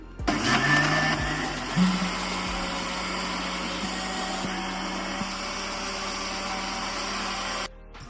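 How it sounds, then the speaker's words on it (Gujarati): A mixer grinder whirs loudly as it blends bananas, milk, almond pieces and sugar into a shake. The steady motor roar holds for about seven seconds, then cuts off abruptly. "આપણે મિક્સર જારમાં પીસી લઈશું"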